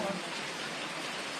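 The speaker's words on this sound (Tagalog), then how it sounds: "kasalukuyan pa rin ang ulan mga kasima. Ayan. Lakas ng ulan." Heavy rain falls outdoors as a dense, steady hiss of broad noise, loud and continuous with no breaks.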